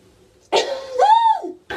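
A voice imitates a coughing hen: raspy cough-like bursts, then a rising and falling clucking squawk, and another cough at the end.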